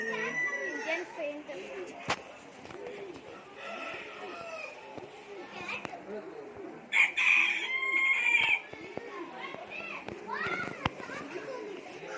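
Chickens cluck and a rooster crows repeatedly in a busy backyard setting, with children playing and voices chattering throughout at moderate distance.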